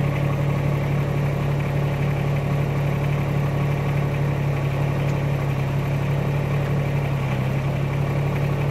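An engine, tested after a fill-up during a propane tank trench dig, runs at a steady idle with a constant low drone and vibration for the whole stretch, with no voices.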